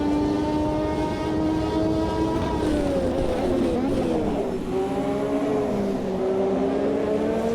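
Formula One car, one of the most dominant in the sport's history, driving at speed with a loud, continuous engine whine whose pitch sweeps up and down through gear changes, with a voice audible over it.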